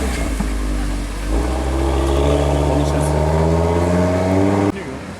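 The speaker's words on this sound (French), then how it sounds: "F12 TDF qui quitte le rassemblement" Ferrari F12 TDF V12 leaving a car meet, a loud deep engine roar with rising pitch as it pulls away close by, then cutting off abruptly.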